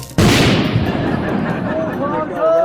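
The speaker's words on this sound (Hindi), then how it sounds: "पूरे मोहल्ले का ट्रांसफार्मर उड़ा दिया आपने" A sudden loud blast, like a neighbourhood electrical transformer blowing up, hits at once and then rolls off into a rumbling decay with a faint tonal whine near the end, no talk over it.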